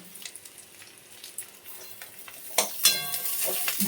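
Garlic and ginger sizzle in a hot pan while a utensil stirs and scrapes, the frying swelling louder partway through, with no talking.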